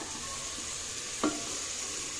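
A three-year-old child stirs pulav frying in a pan, with a faint steady sizzle and one brief scraping stir of the spoon partway through, quiet and close, with no speech.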